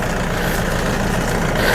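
A small farm tractor idles steadily outdoors, a loud, even low rumble with a constant throb that holds for the whole short stretch, with no voices.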